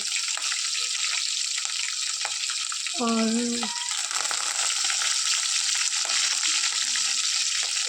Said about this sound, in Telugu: ఆయిల్, జీలకర్ర, కరివేపాకు, పచ్చిమిర్చి, ఆనియన్ ఇలా వేసాను.